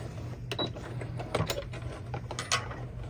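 A sewing machine back-stitching along the edge of a fabric key fob, giving a steady mechanical whir broken by several sharper clicking bursts at close range, with no voices.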